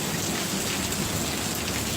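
Heavy rain pours down steadily during a flash flood warning, a dense, unbroken hiss of water hitting surfaces that fills the whole moment without any voices.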